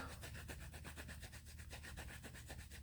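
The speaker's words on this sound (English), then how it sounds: "I'm just going to ink a little area. I just kind of rub it across like so" Ink being rubbed across a gelli printing plate for a print on polymer clay, giving a steady close scraping and rubbing texture with soft repeated strokes throughout.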